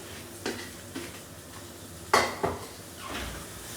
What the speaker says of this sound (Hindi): और अब मम्मी कर देगी इसमें फ्राइड आलू और गोभी मिक्स।